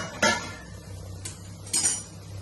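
A pan lid on a pot of sabudana khichdi clanks with two bright metallic clinks, one short tap between them, close and fairly quiet over a low steady hum.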